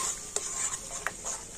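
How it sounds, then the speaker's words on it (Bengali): A spoon stirs powdered milk into liquid milk in a pot, two light scraping clinks against the vessel over a soft steady background hiss. "আর গুঁড়ো দুধটা আমি লিকুইড দুধের সাথে ভালো করে গুলে নেব।"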